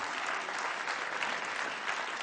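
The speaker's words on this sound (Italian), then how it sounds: "fategli anche un applauso che... Zappalà!" A cabaret audience breaks into continuous applause, a steady wash of many hands clapping, even and moderately distant with no clear individual claps.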